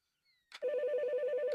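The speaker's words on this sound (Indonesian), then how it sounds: "ada telepon terakhir yang akan gua setujui" Telephone ringing in the Roblox horror game The Morgue Shift, a steady repeating electronic ring that starts abruptly after a brief faint tone and continues loud and close, alone without talk.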